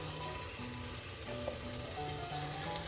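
Carrot, potato and red and green capsicum pieces drop one after another into a hot pan with tomato, setting off a loud, steady sizzle with brief stirring clicks throughout.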